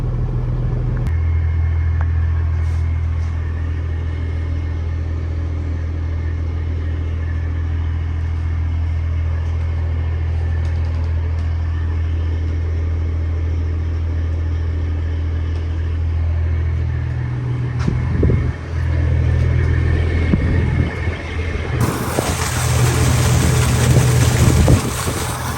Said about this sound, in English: That's a haul truck up there,